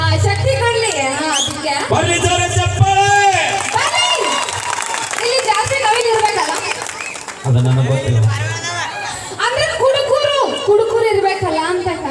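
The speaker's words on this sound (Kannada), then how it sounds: "ಜೋರ ಚಪ್ಪಾಳೆ" A large audience claps loudly through a folk song performance, the applause mixing with crowd noise and voices over a steady music bed, with a brief dip near the middle before the clapping and sound build back up.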